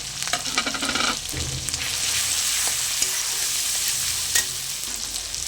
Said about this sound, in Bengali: এবার আদা রসুন বাটাটা পেঁয়াজের সঙ্গে আরেকটু ভালো করে ভেজে নেবো